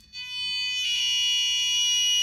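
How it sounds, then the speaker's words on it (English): A piezo buzzer driven by a potentiometer on a maker-kit microcontroller project emits a steady, loud electronic tone alone, rising in intensity after a brief start and holding continuously. "So this now uses both the buzzer and the potentiometer."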